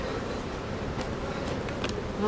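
Steady dense buzzing of many honeybees close by at a hive, a continuous humming drone with faint brief higher whines.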